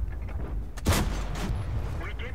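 A tank cannon in World of Tanks fires at an enemy turret, one sharp heavy shot with a short rumbling tail rising over a steady engine drone, loud and close.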